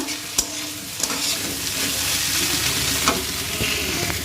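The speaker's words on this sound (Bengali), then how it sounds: "এদিকে হচ্ছে এই যে পেঁয়াজ কলি আলু ভাজা" Potatoes frying with onion greens in a home kitchen pan, a steady close sizzle with a few sharp scrapes and clinks of a stirring utensil against the pan.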